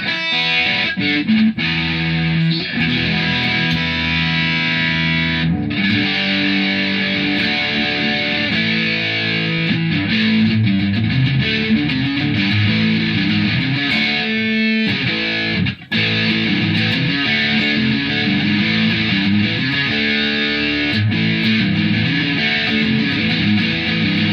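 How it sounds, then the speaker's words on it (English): Heavily distorted Squier '51 electric guitar plays alone through a Line 6 amp, loud and saturated, with chords and riffs ringing continuously and one brief cut near the end. "Playing through my son's line 6, and I don't like the distortion on that thing"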